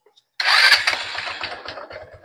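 A Motorstar Easy Ride 125 motorcycle starts on the electric starter with one click: a brief whirring crank followed at once by the engine catching into a rapid, steady putter at idle, close and moderately loud.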